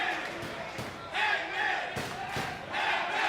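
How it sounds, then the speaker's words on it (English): Wrestling arena crowd at a Ring of Honor show roaring and cheering for Hangman Page after a buckshot lariat, a steady loud wash of voices with scattered thuds and shouts throughout. "Sounds like Hangman Page has a couple fans in the crowd."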